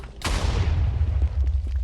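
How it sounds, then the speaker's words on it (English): Cannons firing in a Minecraft battle, a sharp loud blast followed by a rumbling boom and scattered further explosive thuds decaying over the next second or so. "Osh is clearing out a lot of this for Ben with all of the cannons."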